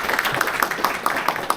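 Studio audience applause after a talk, a short burst of steady clapping with no voices over it.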